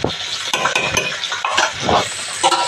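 Fish frying in a pan for a Konkani fish fry, a close sizzle mixed with busy clinks and scrapes of utensils against the pan, short and without speech.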